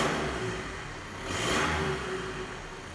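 A Mini Cooper SD's B47 diesel engine with a stainless downpipe, still cold, gets a single rev: steady nearby engine noise swells around the middle and then settles back to idle, with no talking.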